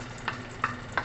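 Garlic frying in a home cooking pan, a low steady sizzle broken by three evenly spaced stirring scrapes, close and moderately loud, with no talking.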